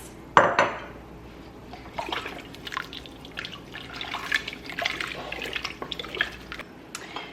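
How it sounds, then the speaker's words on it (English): Several cups of water poured into a pot in a home kitchen while making chicken tortilla soup for canning, a steady splashing trickle with clinks of metal pots and utensils, starting with a sharp knock. "I'm going to add some water,"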